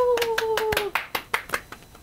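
Hands clap about a dozen times in a quick, slightly uneven rhythm, sharp and close, while a voice briefly sounds over the first few claps.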